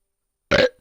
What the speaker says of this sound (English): that burp is one to, what's the word for it, commemorate getting this Q3